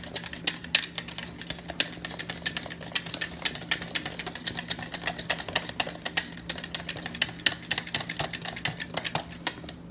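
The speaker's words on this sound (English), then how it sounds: "we're going to mix it together real good" Wing coating ingredients including cornmeal mixed in a bowl, a steady run of quick light tapping and scraping clicks, close and fairly quiet, with no talking.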